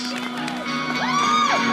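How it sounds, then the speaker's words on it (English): A crowd at a Winterfest 2014 event cheers, whoops and shouts for a fundraising team, with loud, steady, overlapping voices and rising high whoops throughout. "Give a large round of applause for Team Anytime Fitness."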